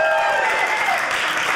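Comedy club audience cheering and applauding, a loud dense burst of clapping and whoops close up, filling the short moment without pause.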